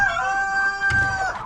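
A chicken crows in a long drawn-out call, close and clear, with a short rustling thump partway through and no talk over it.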